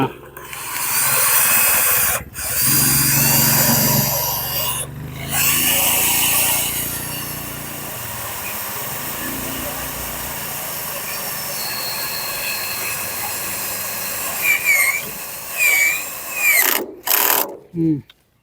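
A cordless drill runs in long continuous bursts with brief stops, its battery running low and the hammer function left off, with clicking mechanical noises and short stuttering runs near the end.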